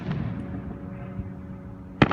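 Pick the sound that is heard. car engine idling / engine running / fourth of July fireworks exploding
fourth of July fireworks exploding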